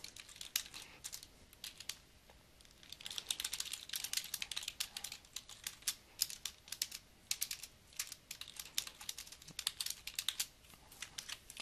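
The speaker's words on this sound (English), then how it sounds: "I'm really just kind of typing with my own hands on the keyboard here." Fast typing on a computer keyboard, a continuous stream of light clicking keystrokes in uneven bursts with brief pauses, close but quiet, with no talk.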